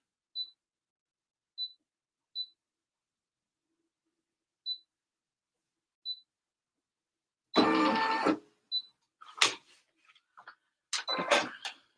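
An embroidery machine runs a placement stitch onto tearaway stabilizer, opening with several sparse, sharp high beeps, then a dense mechanical burst and a few more short stitching runs with clicks, close and clear.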